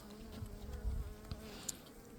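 A soft, steady insect buzz hums low and close, like bees around a hive, with a few faint knocks and clicks; no voices.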